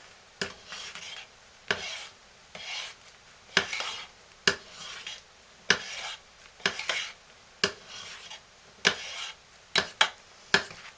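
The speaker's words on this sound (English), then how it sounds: "So I'm going to stir this one again." A utensil stirs hot process goat milk lye soap in a pot, making a rhythmic series of scraping, clinking strokes against the metal, about a dozen of them, close and clear.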